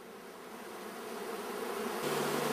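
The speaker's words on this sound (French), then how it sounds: "les abeilles agitent leurs ailes à l'entrée de la ruche pour repousser l'air chaud" Honeybees fanning their wings at a hive entrance to push out warm air, a continuous close buzzing hum that grows slightly louder and denser toward the end.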